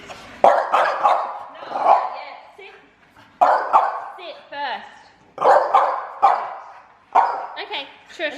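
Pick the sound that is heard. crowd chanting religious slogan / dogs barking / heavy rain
dogs barking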